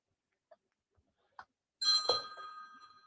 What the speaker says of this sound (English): I hear bells.